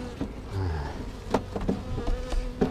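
Honey bees swarm around an opened hive during a honey harvest, a close, dense buzzing hum with individual bees droning past the microphone.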